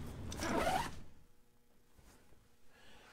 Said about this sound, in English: this accessibility feature with this top zipper